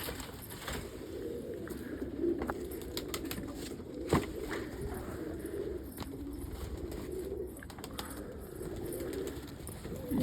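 Pet pigeons in a loft peck at pizza crusts, with soft cooing, scattered wing flaps and light pecking taps over a steady low background hum, no talking.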